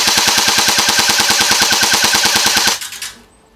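An adult airsoft gun fires a rapid, evenly spaced full-auto burst of loud mechanical shots for nearly three seconds, then stops abruptly and leaves a brief fading tail.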